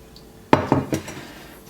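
A metal baking pan greased with oil is picked up and set down, giving three quick close clanks, then quiet.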